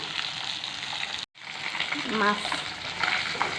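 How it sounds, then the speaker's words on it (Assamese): Steady loud sizzling of fish frying in hot oil in a pan, with a brief cut in the middle and some spattering and scraping. "মই মাছ ভাজি আছোঁ।"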